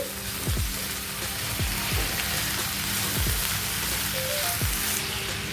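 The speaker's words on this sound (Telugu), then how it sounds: "ఇలా కలుపుకున్నాక ఆయిల్లో బాగా ఫ్రై చేసుకోవాలండి చిక్కుడుకాయలని" Broad beans fry in peanut oil with a dense, steady sizzle and crackle, close and constant, while a few low knocks and scrapes of stirring break in now and then.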